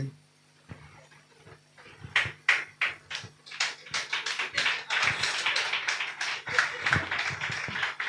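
A church congregation claps hands, starting with a few scattered claps and building into steady, rhythmic group clapping at moderate distance.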